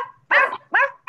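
Preschool children in a gymnastics class imitate a dog barking, giving three quick, close, loud woof-like vocal bursts in a row.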